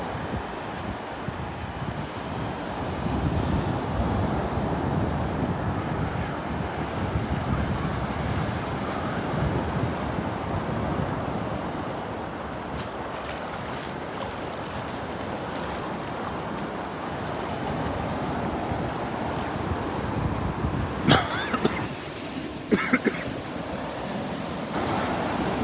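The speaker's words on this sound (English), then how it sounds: "Yeah, the waves are definitely bigger today." Ocean waves breaking on the beach at Delnor-Wiggins on a morning walk with bigger surf than usual, a continuous rolling wash with wind buffeting the microphone and a couple of sharp gusts near the end.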